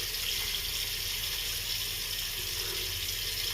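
Cold water flows steadily from a tap at a sink while the face is wetted before a shave, a close, even, unbroken wash of sound with no talking.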